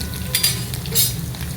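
Chopped garlic and ginger fry in hot oil for a brinjal curry, a close, steady sizzle with a couple of brighter bursts as the pieces are stirred, no talking.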